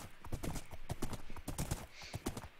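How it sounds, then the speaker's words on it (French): Horse hooves clip-clopping in Minecraft: a quick, steady run of crisp hoof clops, close and clear, with no talk over them. "où est-ce qu'on attache les chevaux?"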